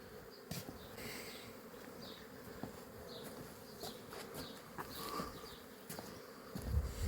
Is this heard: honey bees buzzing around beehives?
yes